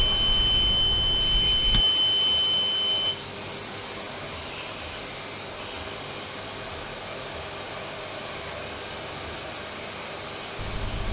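An oil mist detector alarm sounds a steady electronic tone over loud engine-room machinery hum for a few seconds, then cuts off, leaving the engine-room drone running on alone.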